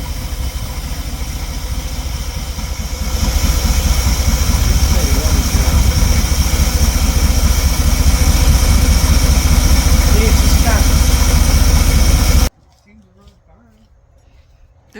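The engine of a 1976 Dodge D200 runs at a loud, steady idle close by, stepping up slightly after a few seconds, then cuts off abruptly near the end, leaving near silence; a voice is heard briefly over the running engine.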